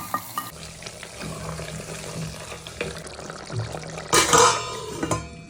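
Beef curry cooking in a clay pot, a steady low bubbling and simmering with stirring and clinking, plus a brighter louder burst of sizzle and scraping near the end; no voices.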